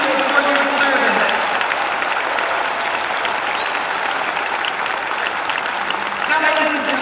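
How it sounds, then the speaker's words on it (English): Spectators at a 2019 IHSA 1A girls volleyball semifinal gym applaud military veterans in attendance, a steady, loud wash of crowd clapping that fills the whole stretch, with a voice briefly audible at the edges. "please recognize all our military veterans in attendance here today with a round of applause"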